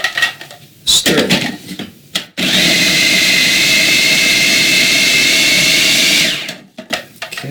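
A food processor blends a vegan burger mixture with seasonings and cornstarch in one loud, steady whirring run of about four seconds, with clatter and handling noise before and after.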